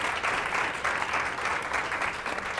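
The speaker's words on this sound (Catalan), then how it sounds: "molt bé, aplaudiment" Studio audience of a Catalan television quiz show clapping for a school team, a short burst of steady applause from a modest crowd, even and moderately loud.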